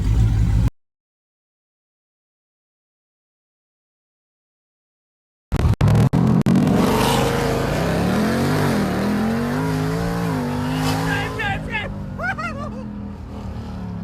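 A car fitted with a Kong 2650 supercharger on a 3.0 pulley roars under hard acceleration after a silent gap, the engine note climbing loud and close with rising whine and gear changes.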